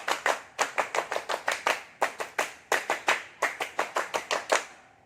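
Scouts clap the Pramuka clap twice in unison, a sharp rhythmic pattern of crisp group handclaps in quick bursts with brief pauses between phrases, close and loud with no voices.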